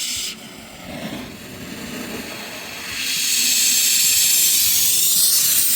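Gold filings being melted with a torch, a quiet low roar that swells into a loud, steady rushing hiss which holds to the end, with no one speaking.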